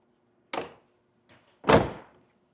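Tonneau lid on a 1964 Chevrolet Corvette L79 327 being lowered and shut, a soft thump followed by a louder, heavier closing thud a second later, close by with no talking.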